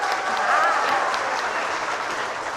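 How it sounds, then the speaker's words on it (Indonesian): Audience at a Balinese drama gong comedy performance breaking into loud, dense applause that holds steady, with a faint voice briefly audible over the clapping. "Tepuk tangan untuk penonton."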